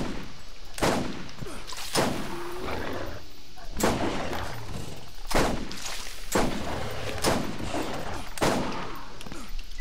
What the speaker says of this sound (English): I wasted so much ammo on that guy.